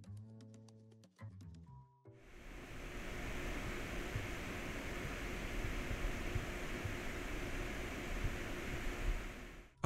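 A Sapphire R9 290X Tri-X graphics card's triple cooling fans whir under load as a steady, even broadband rush that starts abruptly after a brief musical intro and holds constant.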